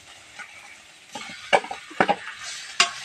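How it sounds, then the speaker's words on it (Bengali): Potato being added to a sizzling spice mix of coriander powder and other masala in a pan, with a soft fry hiss under several distinct stirring knocks and scrapes, spaced irregularly and fairly close. "এই যে এবার এর মধ্যে আলুটা ছেড়ে দেবো"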